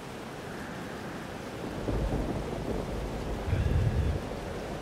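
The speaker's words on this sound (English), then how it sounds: "Storm followed me." A thunderstorm rumbles with low, heavy thunder rolls that swell partway through and peak near the end, over a steady wash of rain noise.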